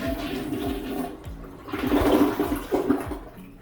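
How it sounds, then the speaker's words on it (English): An old toilet flushing after its push-pull supply valve has been shut off, a gurgling, draining rush of water through the bowl that swells and fades with no refill, heard up close without talk. "Pull it to turn it off, and then flush the toilet."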